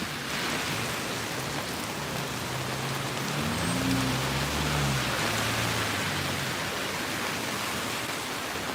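Steady rain in St Petersburg, Russia, hisses down in a dense, even wash, with a low hum briefly underneath.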